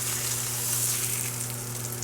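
Cheese-filled chile rellenos frying in a hot pan make a steady, dense sizzle, close and even throughout with a low electrical hum underneath and no voices.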